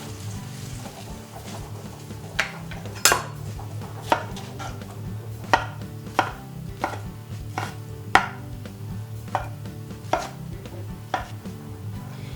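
Fresh peeled tomatoes are chopped on a board with a knife, giving a dozen or so sharp, separate knocks at an uneven, unhurried pace over a low background hum.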